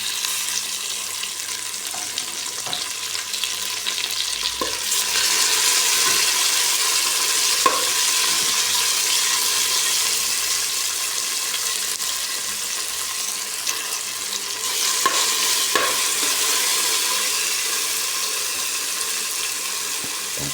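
Tomatoes sizzle and fry steadily in a hot pan for sautéed bitter gourd with shrimp, with occasional stirring clinks over a continuous hiss, close and fairly loud.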